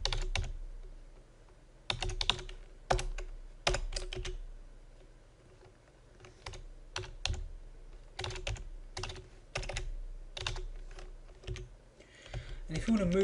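Computer keyboard keys being typed in bursts while entering dates and times into a table in OpenOffice Writer, close and crisp, with irregular clusters of clicks separated by short pauses.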